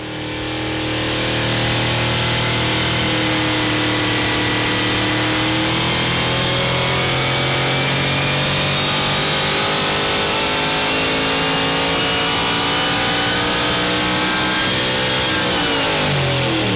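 A supercharged Ford 7.3 Godzilla V8 with a Harrop TVS2650 supercharger runs on a dyno. It climbs from idle into a long, loud, sustained rev with a rising whine, then drops back at the end, and no one speaks.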